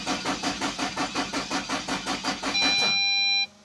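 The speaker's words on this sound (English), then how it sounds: "It's still cranking but it doesn't start" A Nissan X-Trail engine with an ignition fault cranks steadily without catching, giving a rapid rhythmic whirring that pulses about four times a second. It ends in a brief steady tone before stopping, with no voices present.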